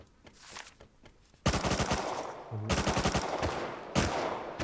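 Video-game automatic gunfire: after a quieter lead-in, loud, close rapid-fire bursts rattle out in two long volleys separated by a short pause.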